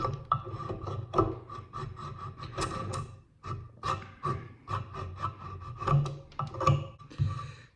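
A knife shaving and scraping along wood in short repeated strokes, each a dry rasping rub, close and fairly loud with brief pauses between passes.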